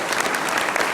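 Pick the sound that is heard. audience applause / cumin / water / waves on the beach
audience applause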